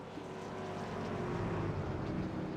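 A race truck engine at a Stand Up To Cancer memorial race, revved a couple of times to clear its induction system, comes through as a faint, muffled roar that swells gradually with no speech.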